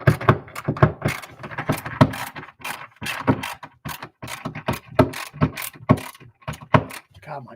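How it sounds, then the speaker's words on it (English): Screws being driven with an oversized screwdriver bit during an Arcade1Up Class of 81 cabinet build, giving a dense run of close, rhythmic ratcheting clicks and mechanical clatter with brief pauses throughout. "my bit's too big for these screws. All right, 2 are in, 2 more to go."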